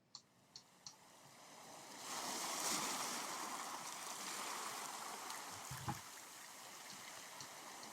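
Seashore ambience in a sound mapping app, a soft continuous wash of surf and water noise that swells and holds, with a few faint clicks at the start.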